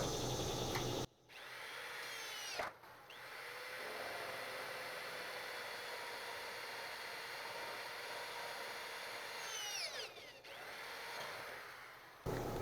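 A power drill runs almost continuously, boring holes in trailer sheet metal for rivets on an 8 x 5 tilt trailer, a steady loud whine with brief stops near the start and end.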